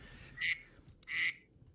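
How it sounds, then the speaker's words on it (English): Two short, nasal duck quacks, evenly spaced and fairly loud, stand alone over a faint low background during a basketball talk show. "quack, quack, quack"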